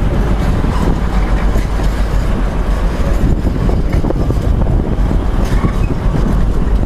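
A loud passenger train, class 185, rushes past up close at Doncaster station, rumbling and clattering continuously with wind buffeting the microphone.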